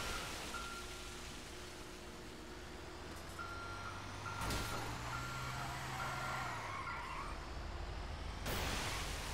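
A fire truck in GTA backs up, its reversing alarm sounding a steady series of evenly spaced beeps over a constant engine rumble, followed by a brief hiss like an air brake.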